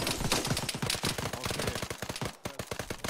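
Sustained machine gun fire in an Arma 3 battle against tanks and infantry, a loud, fast and steady stream of shots with a brief pause near the end, and little talk over it.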